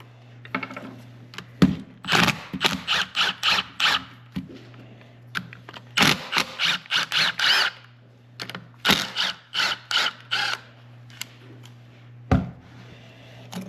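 Work on the leaking water pump of a John Deere 70 pony motor: bursts of rapid ratcheting wrench clicks alternate with sharp metallic knocks and short pauses, close by and loud over a faint steady hum.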